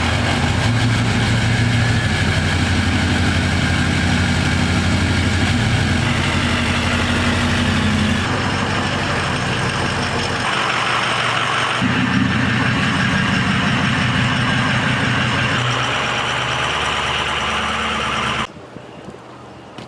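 A truck engine idles loud and close while backing out of a garage, a dense steady rumble that shifts in pitch several times before dropping away abruptly near the end, with no talk.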